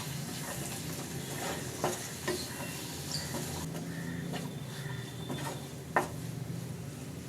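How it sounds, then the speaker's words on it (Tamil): Boiled green peas are stirred into a potato peas masala frying in oil in a pan, with a steady sizzle and occasional scrapes and clinks from the stirring utensil. "இப்போ இதில் நம்ம வேக வச்ச பச்சை பட்டாணி சேர்த்துட்டு மசாலாவோட நல்லா கலந்து விட்டுக்கலாம்."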